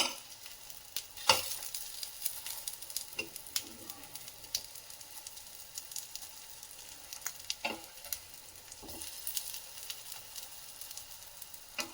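Aloo tikki potato patties fry in oil over a medium flame with a continuous close crackling sizzle, broken by occasional sharper pops and stirring clinks, and no talking.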